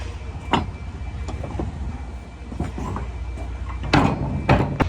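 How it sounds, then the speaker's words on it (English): Trailer doors being shut and secured while shunting trailers, a few sharp metallic clunks and latch knocks, loudest near the end, over a steady low engine rumble. "and secure the doors"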